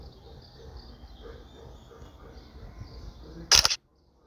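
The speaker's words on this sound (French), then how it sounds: "je prends une nouvelle photo pour tout prendre en compte" A phone camera fires a single sharp shutter click, loud and brief near the end, after a stretch of low background noise and faint talk.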